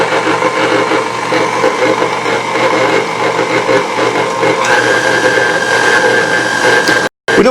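An electric mixer beats keto dark chocolate cookie dough with a loud, steady motor whir lasting about seven seconds, then a brief drop to silence just before the end.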